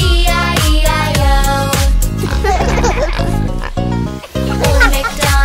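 A sung voice mimics a pig's oinks in a bouncy children's farm song, repeated rhythmically over steady musical accompaniment.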